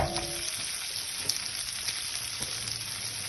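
Salad onions and white onions hit hot oil in a pan for a goat intestine curry, producing a short, steady close-up sizzle with faint stirring clicks.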